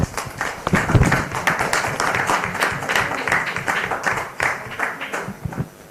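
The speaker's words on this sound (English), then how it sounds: "And now I think they deserve an applaud. Come on, let's all clap." An audience at a live university event claps, a lively burst of irregular hand claps from a moderate-sized crowd, strong at first and fading gradually over several seconds.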